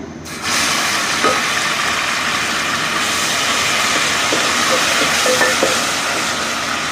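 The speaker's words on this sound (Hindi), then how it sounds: "अब हम इसमें लहसुन अदरक का पेस्ट डालेंगे।" Garlic-ginger paste hits hot oil while biryani is being made, giving a loud, steady hissing sizzle that fills the whole stretch with faint clicks scattered through it and no talking.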